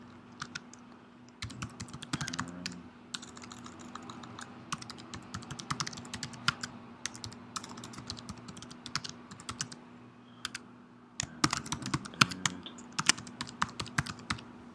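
Keys clatter on a computer keyboard as someone enters a web address and password, steady quick taps in bursts with brief pauses, close and fairly quiet.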